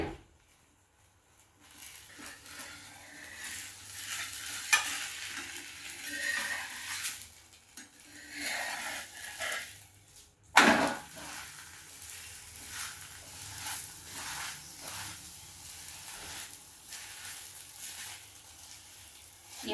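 An aloo paratha roasts with butter or oil in a pan on a low flame, giving a quiet, steady sizzle broken by occasional scraping and the clink of a utensil against the pan.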